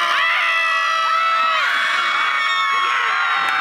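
Fertility campaigners at a protest shout and scream together in a loud, sustained chorus of raised voices, with high wavering cries rising and falling over dense crowd noise.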